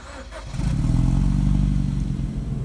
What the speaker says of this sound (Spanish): es hora de encender las luces, arrancar el vehículo